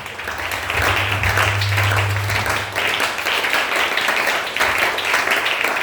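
Congregation applauding during a church service, a sustained wash of many hands clapping, steady and fairly close, with a low hum underneath and a few voices mixed in.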